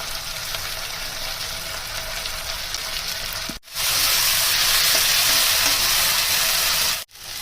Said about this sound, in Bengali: এগুলো ভাজতে থাকলে কিছুক্ষণ পরে রসুন বাটাটা দিয়ে দেবো। পেস্টটা দিয়ে দিচ্ছি।